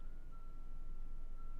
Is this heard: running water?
no